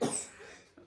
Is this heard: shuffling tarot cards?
no